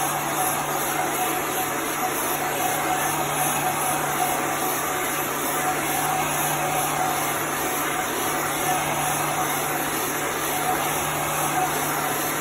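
An industrial heat gun blowing over chalk paste gives a constant whirring blower drone with a steady low hum, unbroken and fairly loud throughout.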